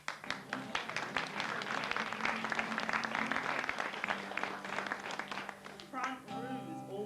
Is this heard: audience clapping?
yes